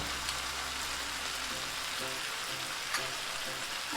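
Minced garlic and ginger fry in a pan for chili paneer with a soft, steady sizzle and crackle heard up close at low volume, with faint kitchen hum underneath.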